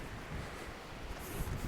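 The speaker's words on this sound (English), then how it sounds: "as normal the wind is ridiculous" Strong gusty wind on open ground in Northumberland under a blue sky, a low rumbling roar buffeting the microphone steadily, fairly faint overall with no voices.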